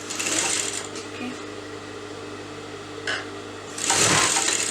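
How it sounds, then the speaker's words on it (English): A sewing machine stitches bias tape onto a blouse, running in two short loud bursts of fast whirring with a brief blip between them over quiet room noise. "I'm going to sew that on top"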